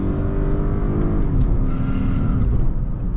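A Lexus IS F-sport being driven fast, its engine a loud, steady drone with strong low harmonics that shift in pitch as it accelerates, close and continuous throughout.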